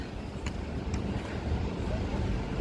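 Strong wind roars steadily against the microphone, a constant rushing buffet with a couple of faint knocks near the start, as a tarpaulin flaps in the wind.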